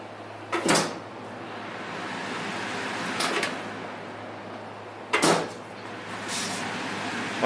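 An air purifier door is opened, giving two pairs of short, close clunks and rattles a few seconds apart over a low, steady hum.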